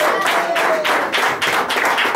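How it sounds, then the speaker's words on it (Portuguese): A Pentecostal church congregation claps joyfully in rhythm, loud, even beats repeating steadily in a close, lively hall with no voices on top. "Palmas bem alegres para Jesus."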